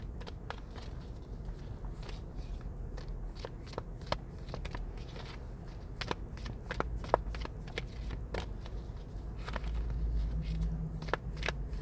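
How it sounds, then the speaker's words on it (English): Tarot cards being shuffled by hand, a long run of crisp, close riffling flicks and snaps in an uneven rhythm over a soft low background, with no talking. "Let's go ahead and pull some more cards here with the Sorcerer's Tarot."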